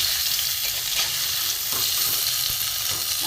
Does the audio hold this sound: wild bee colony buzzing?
no